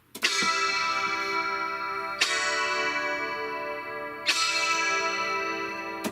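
Clean electric guitar chords ring out three times, each strum sustaining with a shimmering, wavering chorus texture until the next one.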